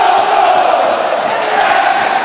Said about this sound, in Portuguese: a torcida vai à loucura e reverencia o ídolo